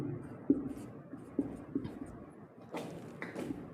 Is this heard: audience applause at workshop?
no